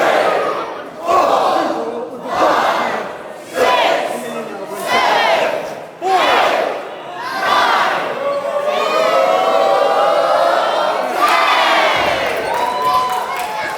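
Pro wrestling crowd at a Mayhem Pro event cheering on Blake Malik: a loud arena audience chants in repeated rhythmic bursts, then breaks into a long, sustained roar of shouting and whooping.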